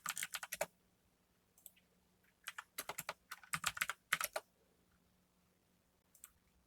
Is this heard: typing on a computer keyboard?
yes